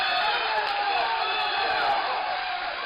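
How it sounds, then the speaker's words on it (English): Tennis crowd at an NCAA Division I championship match making sustained noise, a dense roar of voices and cheering that holds steady and fairly loud throughout without pause. "asking the crowd to make noise"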